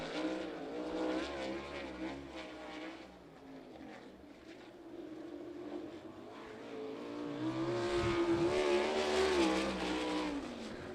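Race car number 23 runs a qualifying lap at Lincoln Speedway during PA Speedweek, its engine roaring and revving as it passes, swelling louder near the end, with faint crowd and announcer sound underneath.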